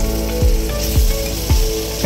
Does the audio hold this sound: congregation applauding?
no